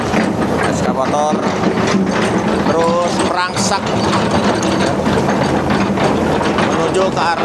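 Heavy equipment works an irrigation canal at Kampung Gabus, clearing washed-in trash, with steady mechanical grinding and clanking churning beneath continuous talk and street noise.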